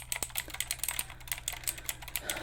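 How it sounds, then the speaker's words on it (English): Steady close-up typing on a computer keyboard, with rapid, irregular clicking keystrokes over a low background hum, soft and without any talking. "My assistant is gonna be typing it down."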